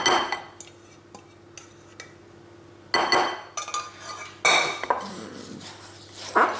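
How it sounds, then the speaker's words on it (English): Wet and dry flapjack ingredients, including chocolate, being mixed in a bowl: clinking and scraping of a utensil against the bowl in short bursts, with louder stirring clatter toward the end and quiet pauses between. "I'm going to now add the wet ingredients to the dry ones, and then mix these round"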